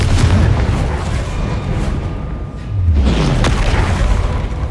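In the PS5 game Hogwarts Legacy, the Confringo blasting spell sets off loud, deep explosive booms: a heavy blast, a short dip, then a second rumbling burst that fills the whole moment.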